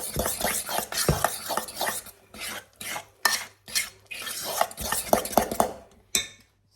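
Banana loaf batter being mixed with pure cacao in a bowl, giving irregular scraping and knocking strokes of a utensil against the dish, fairly close and moderately loud, with short pauses between bursts and no talking.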